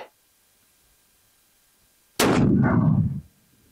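A .50 BMG armor-piercing rifle round fired at body armor gives one sudden, very loud blast after near silence, its heavy rumbling echo carrying for about a second before it cuts off.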